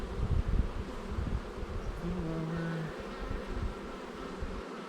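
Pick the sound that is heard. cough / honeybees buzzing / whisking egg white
honeybees buzzing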